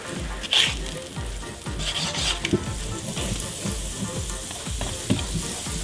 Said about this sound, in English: And put some butter around the edges of it.